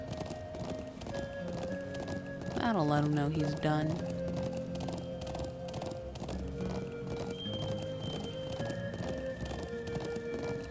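Horses galloping in the Trails of Cold Steel video game: steady rapid clip-clop of hooves under game music, with a brief whinny near the start and a voice talking over it.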